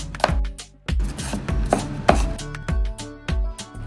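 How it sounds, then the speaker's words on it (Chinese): A kitchen knife chops garlic cloves on a cutting board, a quick run of close, sharp knocks in an uneven rhythm with brief pauses, with no talking. "再切碎"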